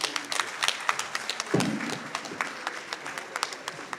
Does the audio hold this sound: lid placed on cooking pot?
no